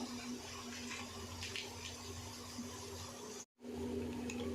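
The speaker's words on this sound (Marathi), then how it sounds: "आता मी तांदूळ काढते बघा सगळं पाणी काढते" Water drains from partly cooked rice for a two-kilogram chicken dum biryani in a steady pouring rush with a low hum under it, broken by one brief silent gap before the flow resumes.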